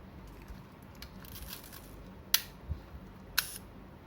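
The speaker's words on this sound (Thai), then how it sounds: "เดี๋ยวชัตเตอร์บีให้ดูทีหนึ่ง" A Minolta Hi-matic 7S camera fires its shutter on the bulb setting at f/22, giving two sharp, faint clicks about a second apart as the shutter opens and closes in a quiet room.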